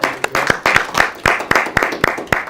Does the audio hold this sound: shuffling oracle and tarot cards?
no